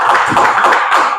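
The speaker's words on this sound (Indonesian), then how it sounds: "Tepuk tangan dulu untuk kelompok" A short burst of clapping from a school class applauding a student group, several pairs of hands tapping fairly loudly and close by for about a second.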